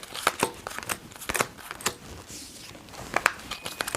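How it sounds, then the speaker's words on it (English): Playing cards riffled and mixed into a deck during a close-up card trick, heard as a run of quick papery flutters and snaps in short bursts, close and fairly quiet, with no talking. "Now for the aces, I start to mix the cards"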